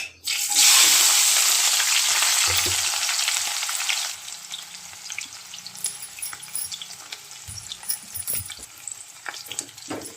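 Chopped onions dropped into a hot pan for a Telangana-style onion and egg curry, a loud burst of sizzling frying that settles into a steadier hiss with occasional stirring scrapes.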